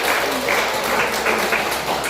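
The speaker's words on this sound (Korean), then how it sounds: "우리 박수로 환영합시다." A church congregation at a Sunday worship service claps to welcome a returning member, a brief, lively burst of applause with a voice or two mixed in.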